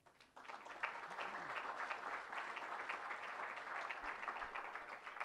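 A crowd at a PK presentation evening in Portland, Maine welcomes a speaker with steady applause: many hands clapping in a continuous, even wash that sounds soft and slightly distant and lasts the whole stretch.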